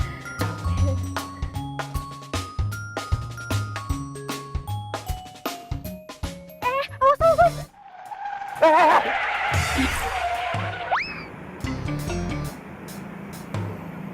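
A car skids with a rising tire squeal and then a screech as it sideswipes another car. The skid comes after a stretch of tonal music with chiming notes, and a brief rough noise burst follows, loud and close.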